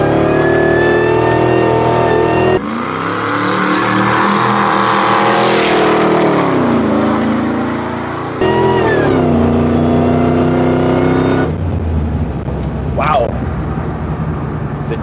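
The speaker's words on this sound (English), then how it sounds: "you can hear all of the supercharger noise, and the tires are actually pretty loud" A supercharged Mustang with a modified exhaust accelerates hard through several gears, its engine rising in pitch with supercharger whine and loud tire roar, dropping at each shift, heard from inside the car.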